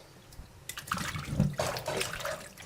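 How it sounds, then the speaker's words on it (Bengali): Tap water runs and splashes while raw meat is washed in a kitchen, a close gushing that swells and sputters unevenly for a few seconds, with no voices. "এদিকে আমি মাংসটা ধুচ্ছি"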